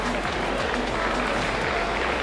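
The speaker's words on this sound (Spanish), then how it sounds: "Aplauso ahora para José Vieites." Applause from a crowd at a rally awards ceremony, honouring a co-driver; steady, fairly loud clapping with some voices mixed underneath.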